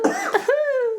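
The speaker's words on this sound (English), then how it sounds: "Sorry, I'm gonna cough." A single short cough rises into a brief voiced throat sound, close and fairly loud, followed by a sustained vocal tone.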